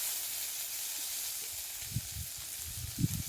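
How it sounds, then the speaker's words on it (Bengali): Pieces of ash gourd fry in a pan for a prawn dish, giving a steady soft sizzle with a few low thumps of the food being moved toward the end. "চাল কুমড়োটাকে ভালো করে একটু ভেজে নিয়ে"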